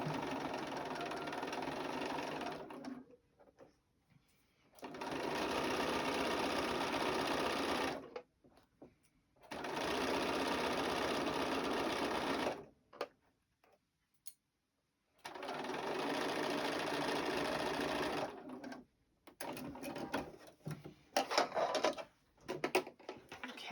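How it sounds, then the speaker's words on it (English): A sewing machine stitches a quarter-inch seam along the edge of a pinned quilted table topper, running in four sustained bursts of steady mechanical whirring separated by brief pauses, with light handling noises near the end. "now we're going to stitch right along that edge, 1/4 inch seam allowance"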